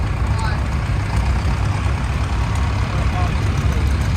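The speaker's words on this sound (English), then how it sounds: "Looks like we got a little homemade miniature tractor here." A homemade miniature tractor, an Avery, runs at idle at an antique power show parade, giving a steady low engine rumble throughout with constant background noise.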